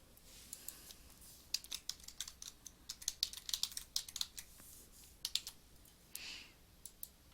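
Typing on a computer keyboard while entering a reply in a threaded discussion's content editor, a close series of crisp keystroke clicks in quick irregular bursts with short pauses, quiet background.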